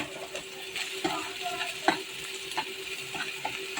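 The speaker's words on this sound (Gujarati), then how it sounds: "હવે હું તેની અંદર સમારેલી ઝીણી ડુંગળી એડ કરું છું અને આપણે તેને 2 થી 3 મિનિટ માટે શેકવાનું છે।" Chopped onion and garlic fry in a pan with a soft steady sizzle, while a spoon stirs through them and gives repeated light scraping clinks close by.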